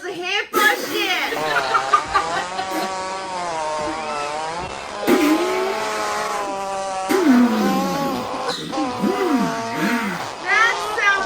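A voice mimics a car engine, producing a long, loud, close run of buzzing, warbling revs whose pitch rises and drops repeatedly, nearly continuous with brief breaks.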